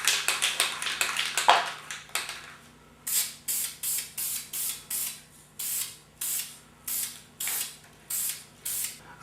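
Krylon spray stain hisses from an aerosol can onto poplar wood in a dozen or more short, even bursts of close spraying, with small clicks and handling noises in the opening seconds.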